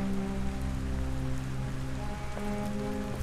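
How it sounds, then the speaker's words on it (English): Steady rain pours down in a scene from the video game Detroit: Become Human, an even, dense hiss of drops on surfaces over a low, sustained musical drone, with no voices. "She's still getting rained on."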